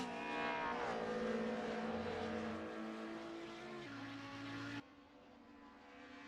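Classic 1990s DTM touring cars race at the Nordschleife in a racing video game, engines whining and shifting pitch as they pass, loud and sustained, then cutting abruptly to a quieter engine drone.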